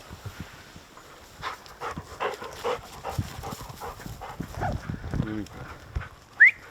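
A pointing hunting dog pants during a grouse hunt in Swedish Lapland, soft quick breaths and rustling movement close by, interleaved with quiet speech and a short high squeak near the end.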